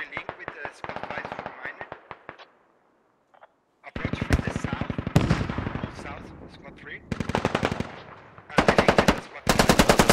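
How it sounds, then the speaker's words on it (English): Rapid automatic gunfire from a SquadOps video game battle, with loud, dense bursts separated by short pauses and one near-silent gap, and voices talking over the shooting. "Hey, I see him shooting."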